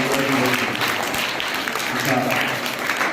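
Seminar audience applauding at a motivational talk, a dense steady wash of many hands clapping that fills the whole stretch at fairly loud level, with no gaps.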